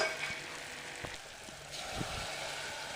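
Kadhi base sautéing in a pot with turmeric and salt, giving a soft, steady sizzle with a few faint stirring clicks, quiet and close, with no talking.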